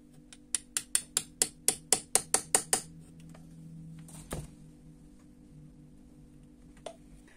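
A small socket is tapped to drive a valve stem seal home on a Peugeot 106 Roland Garros engine: about a dozen quick, sharp metallic taps in a steady rhythm, close up, then a lone heavier knock and a faint later click.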